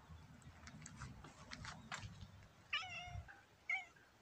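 Cat meowing twice outdoors in a garden, two short, clear meows about a second apart after some soft rustling, fairly close and alone without talk.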